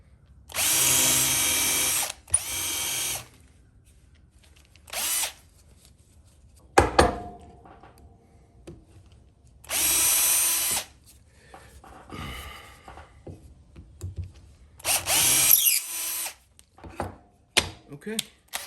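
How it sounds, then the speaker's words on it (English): A power drill reams holes in wooden cleaver handles in several loud, close bursts of a few seconds each, separated by quiet gaps filled with clicks and handling noises. "And I ream these holes out."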